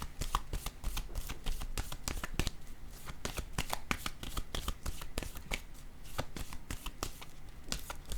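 Tarot cards being shuffled by hand: a steady run of crisp, close riffling snaps that repeat quickly and evenly, fairly quiet, with no talking over them.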